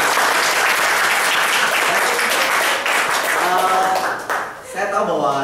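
Applause from a crowd at the opening of an agency office, dense, loud clapping with cheering voices mixed in, fading near the end as a voice rises.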